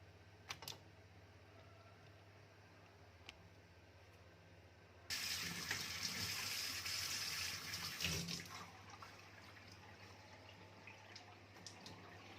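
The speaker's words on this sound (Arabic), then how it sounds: "نغسلها بقى كويس بالدقيق" Tripe being rinsed under running water with flour, lemon and coarse salt, a steady gush of tap water for about three seconds, preceded and followed by a quieter background hum and faint clicks.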